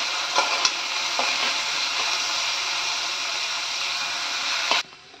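Onion fries in a pan for a quick prawn rice, a dense, even sizzle with a few sharp spatula scrapes near the start and end, close and loud, stopping abruptly.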